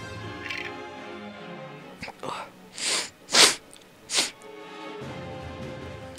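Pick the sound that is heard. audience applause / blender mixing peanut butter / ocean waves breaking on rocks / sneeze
sneeze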